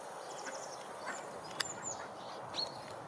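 Farm ducks sheltering under a fir tree in snow give a few faint quacks and calls at a distance over a steady outdoor background hiss.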